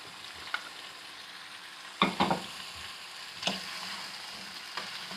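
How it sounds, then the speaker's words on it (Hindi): Onions and tomatoes roast with chicken karahi masala in a pan, giving a low steady sizzle broken by a few sharp spoon scrapes and clinks, the loudest cluster midway; no voices. "अच्छी तरह अब हम भुनाई कर लेंगे।"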